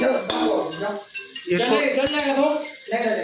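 Plate set down over a pan of frying chicken, with clinks of metal and crockery against a steady sizzle as people chat in the kitchen.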